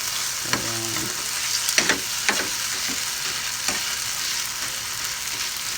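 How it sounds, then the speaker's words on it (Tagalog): Tomatoes being crushed in a pot of mung beans sautéing on the stove, a continuous low sizzle broken by several sharp spoon clinks and scrapes against the pan. "Dinudurog ko talagang kamatis."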